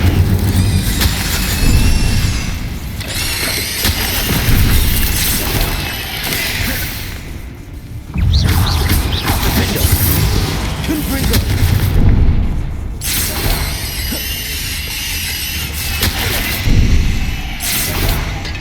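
Incendio fire spell cast in Hogwarts Legacy, a loud burst amid ongoing combat with booming blasts and crashes, several bursts across the fight over game music and effects, with a voice heard at times.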